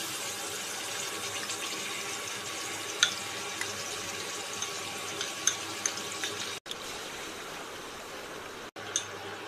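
Water rinses a small spice bowl and pours into a simmering curry, a steady close trickle and splash with a couple of faint clinks.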